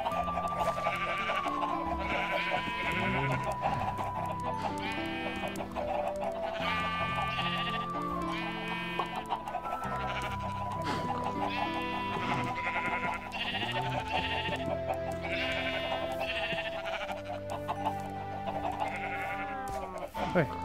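Repeated bleats from Minecraft sheep in a pen, loud and close, come one after another with wavering tones, while a player talks quietly underneath.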